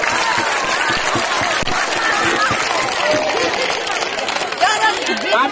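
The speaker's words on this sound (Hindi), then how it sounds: "ताली बजाओ" A crowd at a cooks' protest rally in Bochaha block, Muzaffarpur, clapping in a dense, continuous patter, with chatter and shouted voices mixed in throughout.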